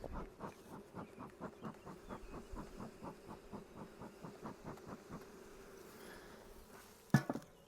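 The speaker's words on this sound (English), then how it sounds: "A lot of bee activity at the front" Honey bees buzz around a hive super, a close pulsing drone that wavers rhythmically as insects fly past, ending with a sharp knock near the end.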